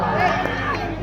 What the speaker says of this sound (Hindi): दर्शकों में तालियों की गड़गड़ाहट, थोड़ा सा कहीं ना कहीं देखा जाए तो शोरगुल का हुजूम बढ़ता हुआ